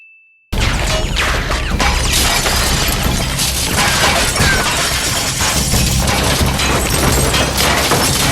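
Glass shattering under gunfire amid a dense, loud, sustained crash of debris and impacts, starting abruptly after a brief quiet lead-in and continuing without pause.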